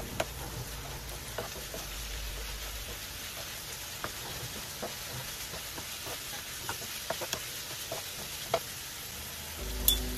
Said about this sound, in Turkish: Ve kokusu çıkana kadar kavuralım karıştırarak.